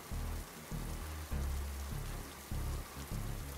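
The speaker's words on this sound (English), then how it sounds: "It's pouring." Heavy rain pours down in a dense, continuous hiss, steady and fairly quiet, with thicker low surges coming and going and no voices.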